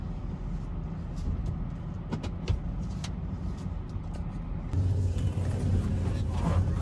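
A vehicle rumbles close by as it pulls up at a scrap metal pickup spot, a steady low engine drone with a few sharp knocks and a heavier surge near the end.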